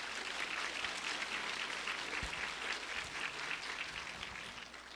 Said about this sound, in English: Can we give Miss Glory Joe a round of applause?